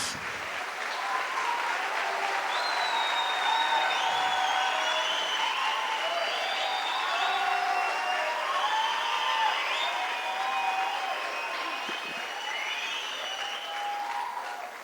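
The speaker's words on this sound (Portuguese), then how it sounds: "Pode bater uma salva de palmas." A church congregation gives a sustained round of applause, a broad steady roar of clapping with scattered whoops and cheers and some voices mixed in, holding at an even loud level before easing slightly near the end.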